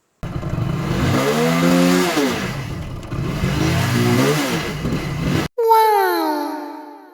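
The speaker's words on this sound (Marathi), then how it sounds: "तुम्हाला पब्लिक गाडीचा आवाज दाखवतो" A motorbike engine revs loudly and close by, its pitch surging up and falling back in repeated waves. It cuts out briefly near the end, then starts again with another short, falling burst.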